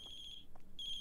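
A telephone rings inside the horror video game The Closing Shift, a steady electronic trill that sounds, breaks off briefly, then resumes, alone with no talk.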